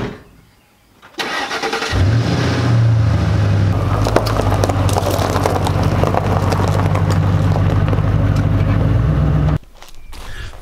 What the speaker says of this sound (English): let's get started by pulling this car into the garage